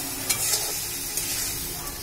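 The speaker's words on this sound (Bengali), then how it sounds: "এখন আমি এটাকে ভালো করে কষিয়ে নিচ্ছি" Green chilies and shrimp stir-fried in a pan, giving a steady close sizzle broken by a few soft scrapes of the spatula, with no voices.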